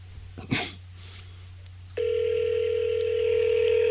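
A telephone line on a podcast call gives a short dial blip and then a steady, loud ringback tone that holds unbroken to the end, following a brief sneeze-like noise.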